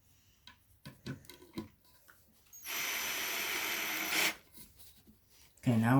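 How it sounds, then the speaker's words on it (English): A Makita or Ryobi power drill whirs in a steady, loud run for about a second and a half, preceded by scattered clicks and handling knocks; a voice speaks briefly at the end. "Now we're gonna do a test with the drill"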